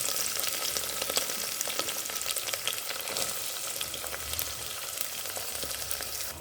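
Onions, curry leaves, green chilies and whole pulao spices fry for chicken biryani, producing a dense, continuous close sizzle with faint crackles and light stirring, no voices.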